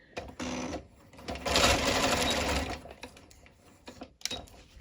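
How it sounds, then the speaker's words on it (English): A sewing machine stitches down a seam on a shirred elastic summer dress, first in a short run and then in a longer steady run of rapid needle clatter, followed by fabric handling. "So I'm going to just sew all the way down."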